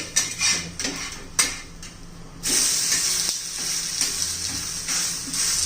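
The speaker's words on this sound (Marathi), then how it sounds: "छान असं खरपूस भाजून घ्यायचे" Poha thalipeeth with sesame seeds roasting crisp in a pan: a few metallic clinks and knocks of cookware give way to a steady, close hiss of frying that continues to the end.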